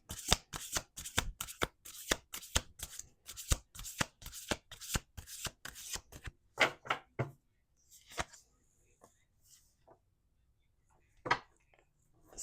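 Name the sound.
tarot cards being shuffled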